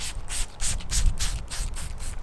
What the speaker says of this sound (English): I gotta wipe it down